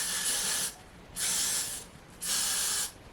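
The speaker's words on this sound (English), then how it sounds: "I'm spraying this in front of the camera" An aerosol hair spray can hisses in three sharp bursts of about half a second each, close and loud, with short silent pauses between them and no voices.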